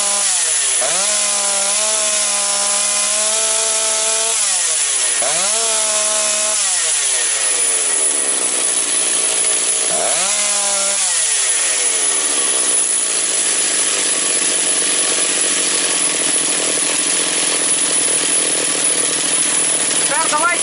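A Motor Sich 475 engine with a misbehaving carburetor runs after starting, loud and close, its rough buzzing note surging up and down through several revs before settling into a steadier, lower idle.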